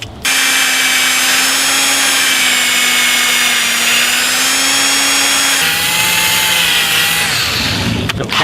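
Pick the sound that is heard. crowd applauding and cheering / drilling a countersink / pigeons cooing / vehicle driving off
drilling a countersink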